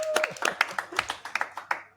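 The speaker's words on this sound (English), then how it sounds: "Can we get a round of applause for Dimitris?" Scattered hand claps from a small conference audience in Limassol, sparse and uneven rather than a full ovation, with a faint voice underneath as the clapping tapers off.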